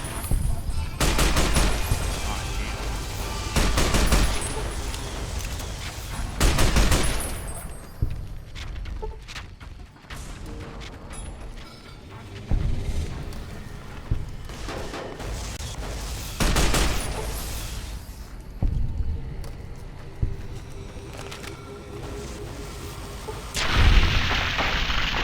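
Rifle fire in Fallout: New Vegas: a series of loud, sharp shots spaced several seconds apart over a busy game backdrop, with a few quieter bursts in between.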